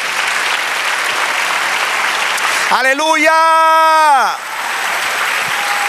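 A church congregation applauds through a steady, full wash of clapping while one loud voice rises and calls out for a moment over the crowd before the applause carries on.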